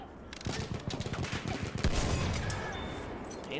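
Scattered gunfire crackles through a Battlefield 1 World War I battle, with rapid overlapping shots in the first two seconds and a steady rumbling battlefield din afterward.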